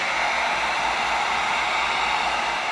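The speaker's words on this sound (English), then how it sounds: "we're going to heat seal these different pieces that are gonna make up the metal teeth" A heat gun sealing cut EVA foam pieces for the metal teeth of a Fortnite pickaxe prop gives a steady, loud, unbroken blowing hiss that runs alone for the whole stretch.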